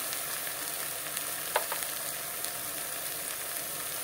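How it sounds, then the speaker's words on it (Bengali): Ground spice paste frying in oil in a pan for a katla fish curry with potatoes, giving a steady close sizzle throughout with a couple of brief sharper crackles near the middle; no one speaks. "পেস্ট করা মশলাগুলো ঢেলে দেবো এখানে। বন্ধুরা দেখো, পেস্ট করা মশলাগুলো দিয়ে দিলাম।"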